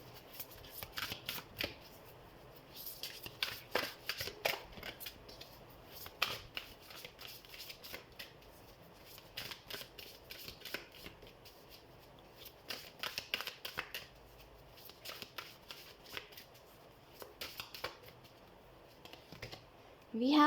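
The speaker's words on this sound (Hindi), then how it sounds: "हम कार्ड शफल कर लेते हैं" Tarot cards are shuffled by hand during a Hindi tarot reading, giving repeated bursts of papery riffling and flicking. The shuffling comes up close and fairly quietly, with short pauses between bursts.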